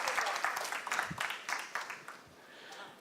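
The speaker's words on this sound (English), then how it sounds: "Let's just give her a round of applause." A community gathering's audience claps in a brief round of applause, fairly quiet and uneven, strongest at first and then thinning over about three seconds.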